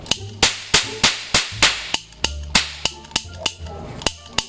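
A toy cap gun fires in a rapid series of about a dozen sharp, loud cracks, evenly spaced and close by, with no talking.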